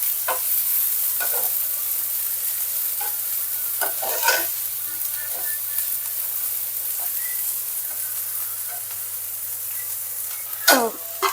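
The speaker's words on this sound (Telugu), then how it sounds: "ఇవి కాస్త మరీ మెత్తగా అవ్వకుండా కాస్త కలర్ మారేదాకా వేయించుకుంటా" Cauliflower pieces fry in hot oil with a steady soft sizzle, broken by several scraping stirs of a spoon in the pan, heard close and without talk.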